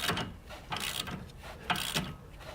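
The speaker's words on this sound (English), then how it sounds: "When we put it in, throw the nut on, put on our wrench." Ratcheting wrench tightening an 18mm nut on a front sway bar link of a 2009-2016 Toyota Venza, heard as close bursts of rapid mechanical clicking with short pauses between strokes, no talk.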